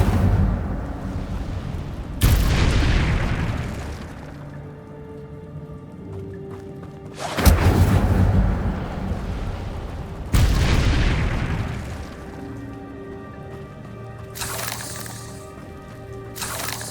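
The Incendio fire spell is cast several times in Hogwarts Legacy: four loud whooshing, crackling bursts spaced a few seconds apart over a low ambient hum.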